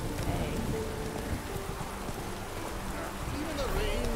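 Rain falling in a cold town in Witcher 3, a steady patter and hiss beneath soft horse hoof clops and scattered game sounds, with faint voices in the background.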